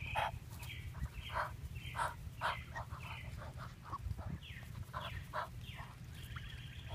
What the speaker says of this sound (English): That's a good duck.